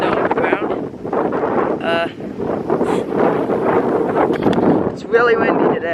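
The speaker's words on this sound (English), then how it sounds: "It's really windy today." Strong wind of about 10 to 15 mph on a freezing, snowy day buffets the microphone in heavy, continuous gusts, with a person talking over the roar throughout.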